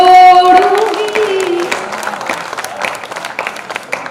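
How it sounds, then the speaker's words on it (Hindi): Audience applause at a kavi sammelan poetry gathering in Dewas, Madhya Pradesh: a dense burst of many hands clapping, loud at first and gradually thinning over about four seconds, with a sustained voice heard at the start. "ये लोग ताली बजाएंगे ऐसा मुझे नहीं पता था।"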